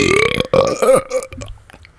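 A loud, close, drawn-out burp with a gurgling, croaky tone that fades out over about two seconds.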